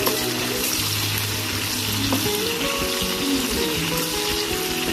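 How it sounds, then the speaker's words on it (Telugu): Onion and green chillies fry for a bitter gourd curry, giving a steady close sizzle with occasional stirring scrapes and faint watery bubbling, and no one speaking. "తర్వాత ఉల్లిపాయ పచ్చిమిరపకాయని వేసుకొని మనం తిప్పుకోవాలి."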